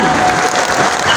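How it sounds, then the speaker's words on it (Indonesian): Crowd applause at a political speech by the PDI Perjuangan chairwoman, a loud, close burst of many people clapping that fills the brief moment. "Tepuk tangan."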